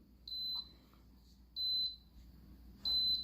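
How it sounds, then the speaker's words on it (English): An Emeril pressure air fryer signals that cooking is finished with three evenly spaced high electronic beeps, each about a third of a second long, over a quiet kitchen hum. "It's beeping to let us know to come see."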